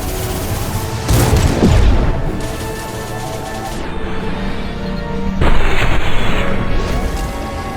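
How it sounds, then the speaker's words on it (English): Loud concussive shot blasts in the Mass Effect 2 video game, with two heavy booming impacts over dense continuous combat noise and rumble. "Concussive shot ready."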